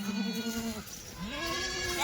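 Two drawn-out bleats from Kathiawadi goats, one right after the other, fairly close and clear over a low background hum.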